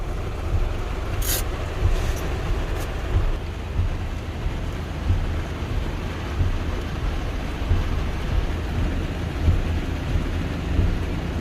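Steady rain patters throughout, with a few distant rumbles of thunder rolling in under the downpour.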